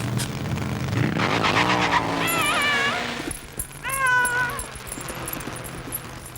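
A cartoon cat meows in a chase scene with cars, giving several rising, wailing cries over engine and skidding noise, loud and close, with a second squealing call following a short lull.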